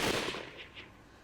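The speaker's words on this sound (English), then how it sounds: "we'd heard more gunshots coming from the direction towards which we'd been running." Gunfire in the video game Hakuoki: Kyoto Winds, a loud burst of shots at the start that fades into a couple of fainter distant reports.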